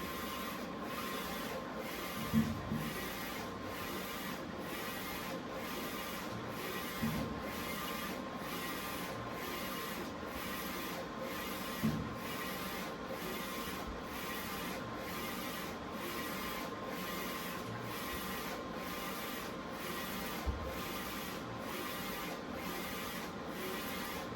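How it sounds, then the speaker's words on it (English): DTF printer printing on a fresh roll of transfer film, its print head sweeping back and forth in a steady, even rhythm with faint periodic clicks, running alone without talk. "I'm going to keep printing it."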